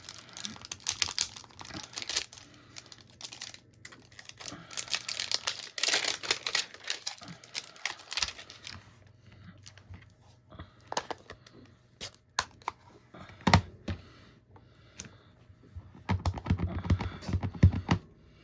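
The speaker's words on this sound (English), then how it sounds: "I'm only stamping on 3 pieces of that paper." A rubber stamp is pressed onto paper while making a card, heard as scattered close taps, crinkles and paper handling with quieter stretches in between.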